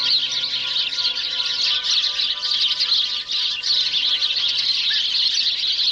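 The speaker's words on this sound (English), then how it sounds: "the sound effects guy just kind of goes nuts with the bird calls here" Dense, continuous bird-call sound effects from an old horror movie chirp and twitter without pause, bright and busy throughout, with faint low tones underneath.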